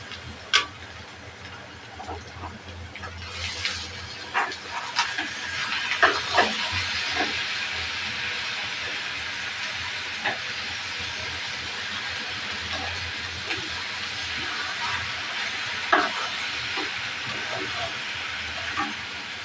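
Red amaranth greens frying with onion in a pan, a steady broadband sizzle and hiss running throughout with scattered clicks and light scraping taps, moderately close.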